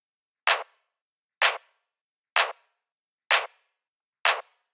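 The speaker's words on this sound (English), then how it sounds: "I opted for quite a long sounding clap" A long-tailed tech house clap sample hits five times at an even, steady pace, each crack sharp and bright with a short fading tail, separated by silence.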